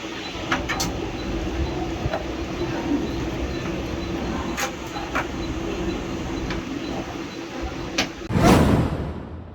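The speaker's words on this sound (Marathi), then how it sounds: "र्यकर्ते तुलसी जोशी यांच्यासह त्यांचे सहकारी मुंबईच्या दिशेने ट्रेनने रवाना झाले आहेत" A train's steady rumbling hum with scattered clicks and clacks, swelling into a louder rushing whoosh near the end.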